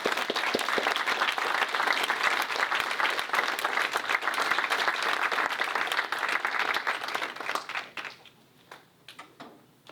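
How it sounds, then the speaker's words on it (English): An audience at a Duluth housing forum with mayoral and city council candidates breaks into sustained, dense applause that carries for several seconds before thinning into scattered claps. "would we all give them a big round of applause?"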